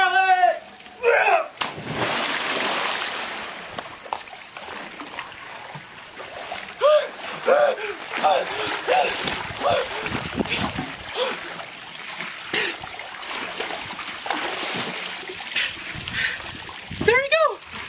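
Cold water poured over a person in a cold water challenge, with splashes and dribbling water, a splatter near the start and later trickles, and people shouting and laughing over much of it.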